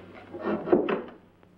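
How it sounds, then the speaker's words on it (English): A door swung shut in a 1975 indoor scene, a single soft wooden rub and thud lasting about a second, close and fairly loud against a quiet room. "close the door."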